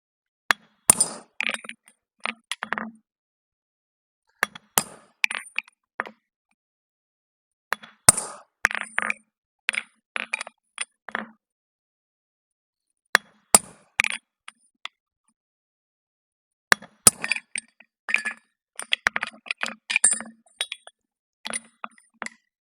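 Hammer blows mark nail holes in a plain stamped front bar horseshoe, 3/8 x 3/4 stock, on the anvil: bursts of sharp metallic taps in quick groups, separated by short pauses, with a bright ringing clink to each strike.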